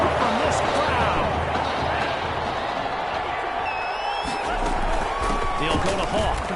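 Stadium crowd roaring steadily after a big play in the Madden 21 football video game, a dense wall of cheering noise that holds loud throughout, with faint whistles and scattered shouts over it.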